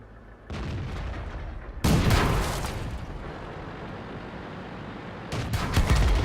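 Tank cannon fire in the World of Tanks video game: a loud blast near two seconds and another near five and a half seconds, each with a long rumbling tail over steady battle noise.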